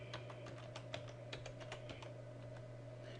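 A password is typed on a computer keyboard as a quick, faint run of irregular key clicks over a steady low hum.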